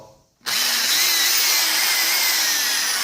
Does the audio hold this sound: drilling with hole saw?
yes